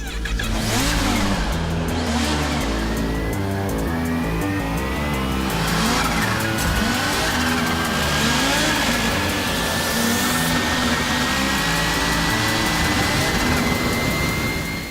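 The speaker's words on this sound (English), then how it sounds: "So it's a naked bike with a supercharged engine." A 2020 Kawasaki Z H2 naked motorcycle's supercharged engine revs hard and repeatedly, rising and falling in pitch with a high supercharger whine, loud and close throughout.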